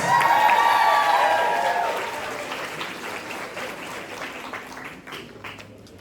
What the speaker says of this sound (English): Alright, everyone, have a big round of applause for all our lovely Mr. Ross competitors.